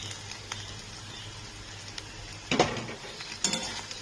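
Boiled pasta being stirred with pasta spice mix in a pan, two short scraping, clattering utensil strokes near the end over a faint steady background hiss, no voices.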